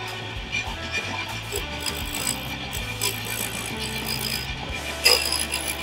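A lathe tool shaves a spinning Katalox wood pen blank, giving a close, continuous scraping rasp with small rhythmic ticks and a brief louder scrape near the end.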